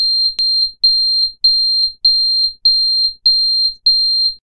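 Alarm beeps from a driver drowsiness detection program run in Python with OpenCV: a steady high electronic tone pulsing about twice a second, loud and clean, with no talking.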